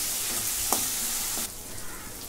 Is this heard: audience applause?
no